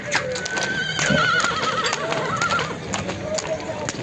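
Horses neigh and whinny repeatedly at a livestock market near Bishkek and Sokuluk, with hoof clip-clops and a busy crowd of people talking all around.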